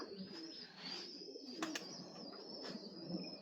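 Pigeons at a loft cooing softly in repeated low murmurs, with a high steady background hiss and a couple of brief sharper sounds, faint and fairly near.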